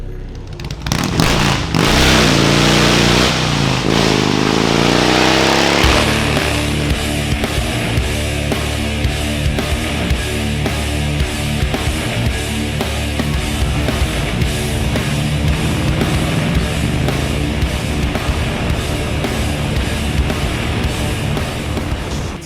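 A motorcycle engine revving loudly through Cholo Deluxe 36-inch fishtail exhaust pipes, a rising throttle burst early on, then a steady, close, continuous rumble for the rest of the run with no talking.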